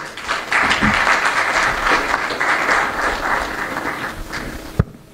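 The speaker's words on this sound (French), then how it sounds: "Sous vos applaudissements, Madame Aminata Touré." Sustained audience applause at a formal ceremony marking 50 years of ECOWAS, welcoming former prime minister Aminata Touré to the podium; dense, steady clapping fills the room and ends with a sharp knock.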